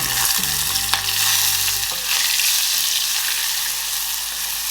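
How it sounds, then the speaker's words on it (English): Onions crackle and sizzle in hot oil, a bright steady frying hiss with a few clinks of a utensil near the start. "once you start hearing that sizzling sound, you can add your chopped onions"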